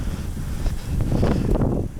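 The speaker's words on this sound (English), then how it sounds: "it's so windy, come on." Heavy wind buffeting the microphone, a loud low rumbling roar that swells and gusts throughout.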